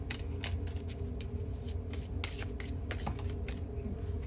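Tarot cards with large cards are shuffled by hand, a quiet, repeated rustling and soft slapping in an irregular rhythm, close up over a low background hum.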